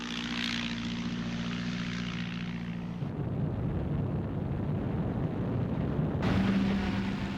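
Gladiator fighter biplanes from the Second World War over Malta; loud propeller engine drone with a steady hum, shifting into a rougher, rumbling roar that swells toward the end.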